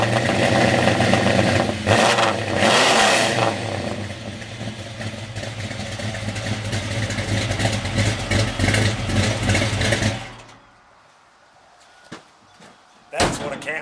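A car engine with its exhaust cut two feet shorter, at a no-prep drag racing event, rumbles loudly and steadily for about ten seconds and then cuts off, leaving a few faint knocks and a brief burst near the end.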